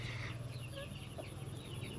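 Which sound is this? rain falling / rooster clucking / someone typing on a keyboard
rooster clucking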